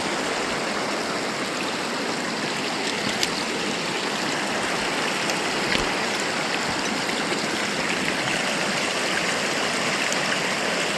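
Water rushes steadily through a canyon in Alberta, a dense, constant, close roar of a stream or small falls with no breaks and no voices.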